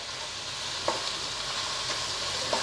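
Turmeric being stirred into a sizzling curry of country-chicken eggs, drumsticks and cherry tomatoes, a steady frying hiss with a few light spoon scrapes against the pan, close and continuous, with no talking.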